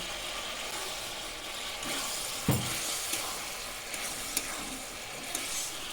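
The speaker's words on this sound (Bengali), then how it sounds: "এবার মশলা ভালো করে কষিয়ে নেব।" Spice paste with turmeric and Kashmiri chilli powder sautéed in a pan for a light rui fish curry, a steady soft sizzle broken by a few sharp clacks of a spatula against the pan.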